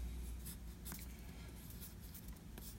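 A pencil drawing on loose paper, a soft continuous scratching with a few quicker strokes, faint and close in a quiet room, with no talking.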